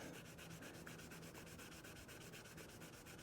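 Car paint on a 23-window Samba bus being hand-sanded with 1200 grit sandpaper, a steady, continuous rhythmic scrubbing with regular back-and-forth strokes, close and even, with no talking.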